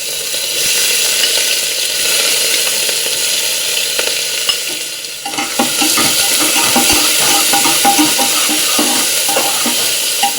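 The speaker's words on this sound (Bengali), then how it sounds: "পেঁয়াজ আদা রসুন কাঁচা লঙ্কা ভাজা ভাজা হয়ে গেছে" Onion, ginger, garlic and green chili frying with cumin in a pan, a loud, continuous close-up sizzle with bursts of crackling and stirring, no voices.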